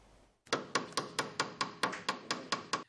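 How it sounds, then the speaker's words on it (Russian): Hammer blows in a car repair garage: about ten sharp, evenly spaced metallic strikes in quick succession, loud and close, with no talk. "Стук молотка и гул других инструментов в этом гараже не смолкают уже третий год."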